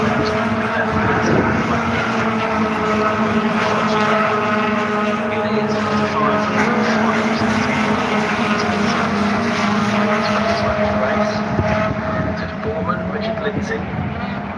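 Honda Type R race cars cross the finish line during a Type R Trophy race, a steady loud engine drone with passing whine, under live commentary.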